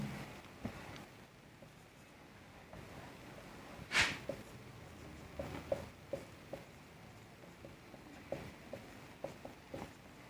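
Marker or chalk scratching across a board during a maths integration lesson, heard as faint scattered strokes and taps at close range, with one sharper squeak near the middle.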